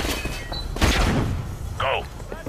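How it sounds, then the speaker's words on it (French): A flash grenade goes off in Call of Duty Modern Warfare Remastered, a sharp burst followed by a booming, decaying blast, with a short high ringing tone after it and a voice speaking just before. "Grenade flash."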